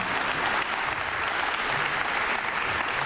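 A large crowd at a Lincoln airport announcement of new flight destinations breaks into steady, dense applause and excited cheering that fills the room without pause.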